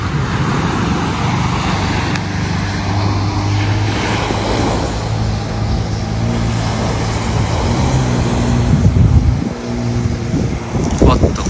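Waves washing ashore at Pattaya beach in Thailand, mixed with passing car traffic and wind buffeting the microphone, a steady broad roar with low engine hum throughout and a louder surge near the end; a voice talks over it.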